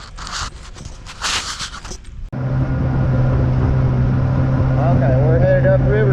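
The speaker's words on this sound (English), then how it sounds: "Probably can't hear me over the boat, sorry about that." A small loaded fishing boat's outboard motor runs loud and steady after launch on a river in winter, a constant drone heading upriver, preceded by a few seconds of wind-buffeted handling noise.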